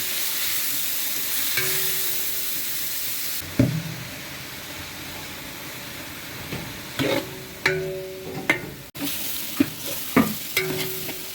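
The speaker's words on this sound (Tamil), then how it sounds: "நல்லா ப்ரௌனிஸாக வதங்கிடுச்சு" Onions and spices sizzle in hot oil for mutton biryani while a ladle scrapes and stirs through them, the steady frying hiss broken by several sharp metallic scrapes and clanks in the second half.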